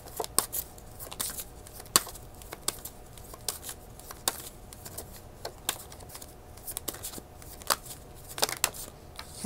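Tarot cards being shuffled by hand, a run of soft close riffling flutters and light snaps repeating irregularly for several seconds, quiet and alone.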